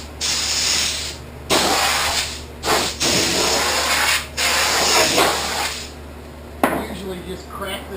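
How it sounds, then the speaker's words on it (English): Compressed air blown through a race car nose cone in a garage, sounding as a loud hissing spray in several long bursts with brief pauses, ending in a shorter, rougher blast. "Now we're just going to blow some air in here and see what we get going."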